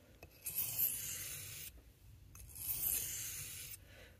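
Blade of a vintage Victorinox 84mm Camper Swiss Army knife being sharpened, two long rasping strokes across a stone, close and fairly quiet, separated by a short pause.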